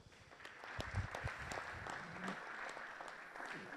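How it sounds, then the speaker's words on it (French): Audience applause for workshop leaders and rapporteurs at the close of a seminar, a steady dense patter of many hands clapping at moderate distance, sustained evenly without speech. "on peut les applaudir encore une fois"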